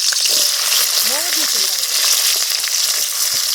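Garlic and onion fry loudly in a pan at an outdoor garden cooking session, a dense, continuous sizzle close by with a few faint clinks and brief background voices.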